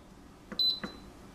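A couple of short electronic beeps from an Instant Pot DUO Plus as the egg button is pressed, close and fairly faint, with soft button clicks around them in a quiet room.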